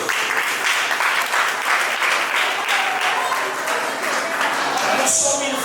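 Sustained applause from a crowd at a Women's Month launch event, dense and continuous clapping at moderate volume, fading slightly near the end.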